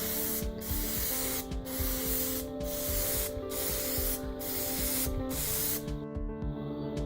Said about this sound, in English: And spray it on with a thin coat.